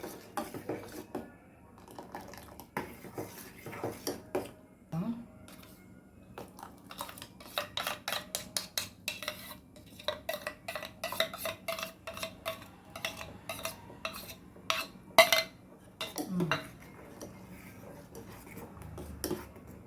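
A spoon stirs a condensed milk mixture in a pan for mango ice cream, giving repeated light scraping and clinking against the metal in an irregular rhythm, close and moderately quiet with no talking.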